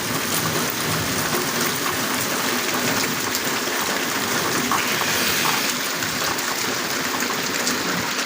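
Heavy rain pours down on a street as a steady, dense, loud hiss of water that continues unbroken from start to finish, with no voices.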